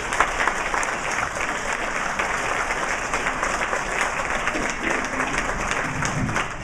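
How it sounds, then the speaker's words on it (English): Steady audience applause, a dense wash of many hands clapping at even loudness throughout, with no voices breaking through. "Let's give him a round of applause."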